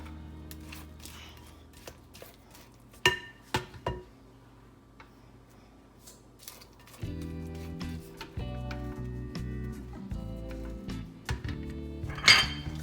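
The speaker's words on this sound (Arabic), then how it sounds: "هلا بدنا نقشط كل الجناب." A utensil scrapes around the sides of a bowl of marble cake batter, giving scattered clinks and taps, a few louder knocks, and a steady low hum in the second half.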